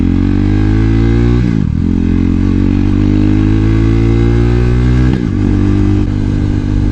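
A KTM RC390 fitted with a Power Commander V holds a loud, steady engine drone while riding, with two brief dips around gear changes and the pitch climbing slightly after each.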